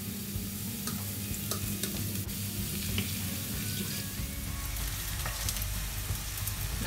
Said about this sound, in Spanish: Echamos la cebolla.